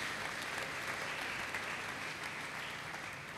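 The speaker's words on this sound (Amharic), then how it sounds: "ኢየሱስ አጨብጭቡለት ለዚህ ወንድሜ።" A church congregation applauds a brother in a steady, dense wash of clapping that fills the room without breaks, moderately distant and even in loudness.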